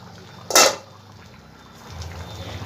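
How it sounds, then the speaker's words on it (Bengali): A cooking pot lid is lifted off a simmering pot of chicken chana masala, giving one sharp, bright metallic clink followed by a quiet bubbling hiss from the pot. "এবার একবার ঢাকনাটা খুলবো"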